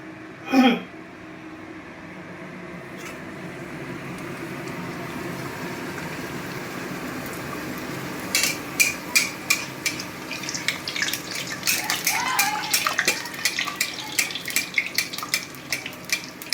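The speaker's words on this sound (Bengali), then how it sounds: "এই লুচিগুলো পরপর একে একে ভেজে নিই" Luchi puffed bread deep-fries one piece after another in hot oil, a soft steady bubbling that turns into busier popping and crackling bursts partway through.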